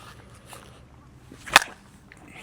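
A Victus Vibe USA Patriot slowpitch softball bat strikes a ball with a single sharp crack, loud and close, standing out against a quiet outdoor background.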